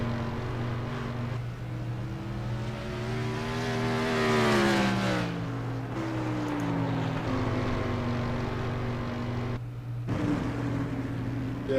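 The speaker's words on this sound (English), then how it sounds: "You hear the tires squealing." Sprint car engines roaring around a dirt track during qualifying, tires squealing through the turn, a steady loud drone with rising and falling pitch as cars pass, close and continuous.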